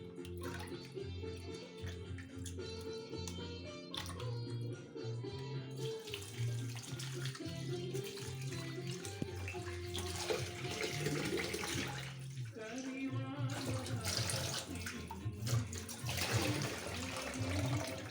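Water runs steadily from a tap into a sink as salted fish is rinsed, a continuous splashing flow with clattering movement, faint and close.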